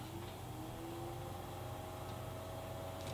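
A Mr Heater Big Buddy portable heater runs its fan with a quiet, steady hum, a low continuous drone with faint whirring tones and no break over a few seconds, heard alone without talk.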